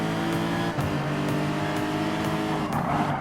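Lexus RC F race car in Gran Turismo Sport at Suzuka sliding into a turn, a loud steady engine drone with shifting pitch and brief tire scrubbing, close and continuous with no talk.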